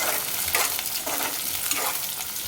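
Bottle gourd curry with onions and green chilies gets stirred in a hot pan, a soft continuous sizzle broken by repeated spatula scrapes and swishes at an uneven, unhurried pace.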